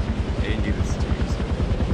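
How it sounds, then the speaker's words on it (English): A helicopter in the video game Far Cry 4 gives a rapid, regular rotor thump with an engine drone, loud and close, while a person talks over it. "This is a chopper, maybe?"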